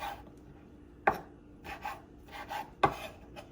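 Knife chopping tomatoes on a board while making chili: a few sparse, quiet chops at an uneven pace, with soft scraping between them.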